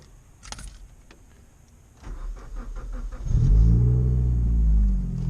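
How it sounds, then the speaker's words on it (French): A Suzuki Swift Sport is started to warm up: a jingle of keys, a brief whir, then the engine catches and settles into a loud, steady idle rumble close by. "on va mettre à chauffer l'auto"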